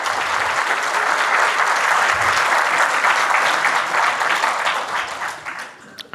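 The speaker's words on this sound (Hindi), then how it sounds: "एक बार जोरदार तालियां मकबूल साहब की।" Loud, sustained applause from a large crowd at a poetry gathering, a dense wash of clapping that holds steady for several seconds before tapering off at the end.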